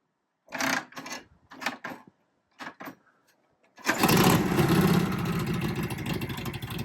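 A 1937 Harley-Davidson Knucklehead motorcycle is kicked a few times with cold-day choke, then fires on the first real kick into a loud, steady, close-up engine rumble.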